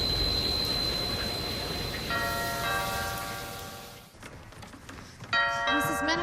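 A doorbell rings indoors in a house, a sustained chime that rises and fades, with a second ringing tone sounding again near the end over soft room noise.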